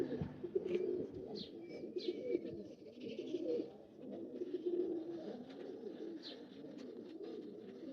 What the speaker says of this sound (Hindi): ये बेटे स्लेटी कबूतर है